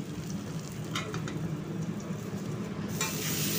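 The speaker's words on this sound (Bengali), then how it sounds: "মিনিট 2 সময় ধরে পটলটাকে ভালো করে ভেজে নেব।" Spice-coated pointed gourd frying in a pan, a close, steady sizzle with a few stirring scrapes near the start and a brief surge of hissing toward the end, with no voices.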